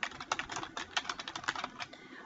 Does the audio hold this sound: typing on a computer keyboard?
yes